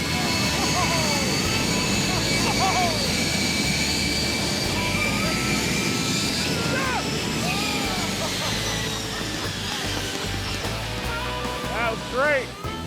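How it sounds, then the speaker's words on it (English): A jet engine strapped to a car roars at full throttle, a loud, continuous blast of broadband thrust that holds steady throughout with slight fluctuations near the end. "From zero to hero, the jet soon reaches full throttle"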